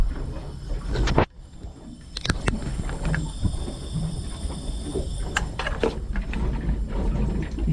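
Running Volvo Penta 5.7 marine engine with a stuck exhaust valve, rough and shaking, its exhaust rumbling steadily from the transom at close range, with a sharp knock near the start and scattered clunks over the low drone.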